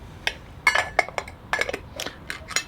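A Mors camp pot, seasoned by five years over fire, has its lid lifted and set back, giving a string of sharp, close metallic clinks and rattles at an irregular pace with brief gaps between.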